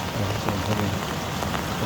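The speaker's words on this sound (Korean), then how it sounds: "이렇게 우박 같은 거 하고 비와하고 같이 이렇게 와요" Rain mixed with hail drums steadily on a tent in Colorado, a dense, even patter with scattered sharper drop hits throughout, heard from inside the tent.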